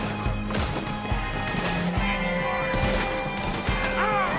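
Gunfire in Red Dead Redemption 2, rapid repeated shots and impacts in bursts over a game soundtrack, loud and close with brief pauses between volleys.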